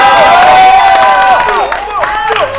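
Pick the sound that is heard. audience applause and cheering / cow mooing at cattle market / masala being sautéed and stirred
audience applause and cheering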